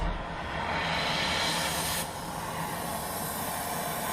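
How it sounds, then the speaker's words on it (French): A small welding torch lit for welding black steel gives off a continuous broadband hiss of gas flow, steady and close, with a slight drop in intensity about halfway through. "là on va allumer notre petit chalumeau"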